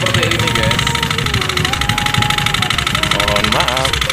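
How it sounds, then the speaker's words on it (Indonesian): Yamaha Mio scooter engine idling with a noisy, damaged rattle and knocking, loud and close, running steadily at night while a person talks over it. "Kita mau cek dulu hidupkan motornya."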